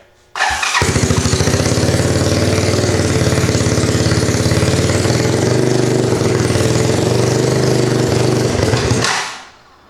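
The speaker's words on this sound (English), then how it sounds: "see if it'll fire up here." A 1986 Honda Fourtrax 200SX ATV with a new ignition coil fires up with no choke and settles into a loud, steady, close idle for about eight seconds before cutting off.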